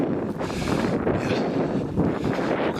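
Strong wind blows steadily across the microphone, a rough rumbling roar with gusts that rise and fall throughout.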